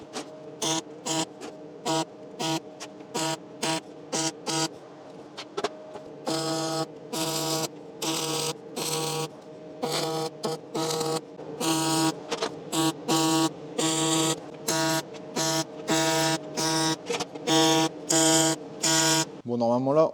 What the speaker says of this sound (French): Et je vais souder ça sur la plaque.